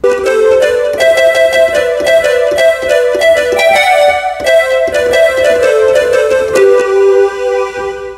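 A home-made synth patch called Air Castle, played as a VST, gives a bright melodic line with repeated plucked attacks over a sustained tone, steady and close for about eight seconds, with no voices.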